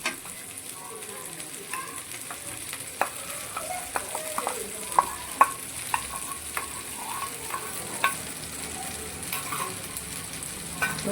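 Sardine masala fry sizzles steadily in a pan as cut garlic goes in, with scattered sharp scrapes and taps of a spatula stirring through the oily mixture, close and fairly quiet.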